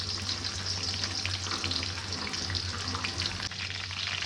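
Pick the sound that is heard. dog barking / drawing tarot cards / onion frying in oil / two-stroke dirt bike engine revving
onion frying in oil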